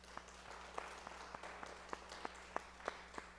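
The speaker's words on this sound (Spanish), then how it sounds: "Por favor, demos un aplauso a José Manuel Alcántara, que nos acompaña." A small audience at a talk claps in welcome for José Manuel Alcántara, sparse and fairly quiet, with a few distinct nearby claps popping out over a thin, diffuse patter from the room.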